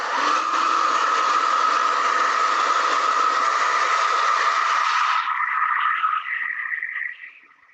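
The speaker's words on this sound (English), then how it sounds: "So I'm gonna hit that with my hair dryer." A hair dryer blows steadily at close range with a loud, constant whoosh for about five seconds, then the pitch drops as it winds down and cuts off.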